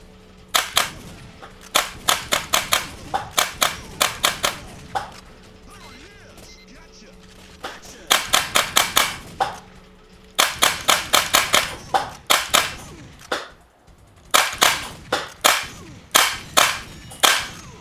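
Rapid clusters of sharp, punchy gunshots from a retro light gun shooting video game, fired in quick volleys with short pauses between bursts. The shots are loud and close, with no talking.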